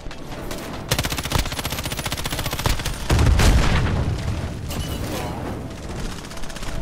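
Sustained automatic gunfire rattles in Call of Duty Warzone, with dense rapid shots, a heavy boom midway and continuing bursts at a moderate distance.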